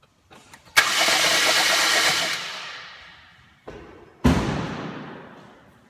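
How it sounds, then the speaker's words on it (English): Ford Escape engine cranking over with the spark plugs removed: two loud close bursts of fast, even whirring, the first lasting about two seconds before fading, then a short stutter and a second burst that trails off. "crank the motor over and blow any of the oil and cleaner out of the cylinders before I put the spark plugs back in"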